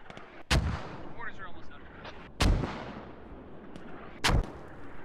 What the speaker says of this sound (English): Excellent mortar fire now.